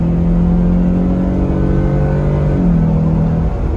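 A Jeep Gladiator truck with an aftermarket iDrive throttle controller pulls away at about half throttle, its engine droning steadily and rising slightly in pitch before a gearshift, heard from inside the cab with no talk.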